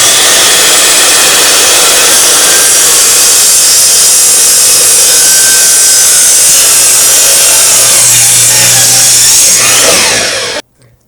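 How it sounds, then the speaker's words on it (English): Miter saw cutting through wood with a steady, loud whine and rasp lasting about ten seconds before cutting off abruptly, with no talk. "put on my ear protection, and let's cut this wood."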